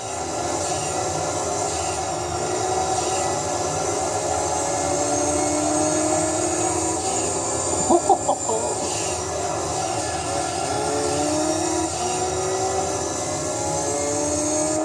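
Race car engine from the video game Gran Turismo 3 drones loudly and continuously, its pitch slowly rising and shifting as the car accelerates, with a brief rougher burst midway.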